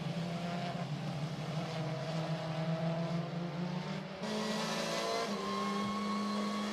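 Onboard a WTCC touring car, Rob Huff battling Gabriele Tarquini at Slovakia in 2014 on an icy, wet track. The engine drones steadily with a gear change partway through, close and continuous.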